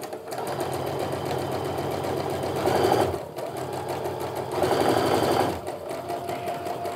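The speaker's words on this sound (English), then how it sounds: "now I'm going to sew down the other side" A sewing machine stitches a quarter-inch seam along a quilt block, running steadily and close by, with two louder, faster stretches partway through; no talking.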